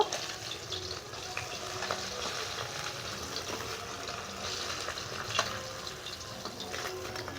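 Cumin and a whole chili hit hot oil in the pan where fish was just fried, giving a soft, steady sizzle with light crackles, fairly quiet and without speech.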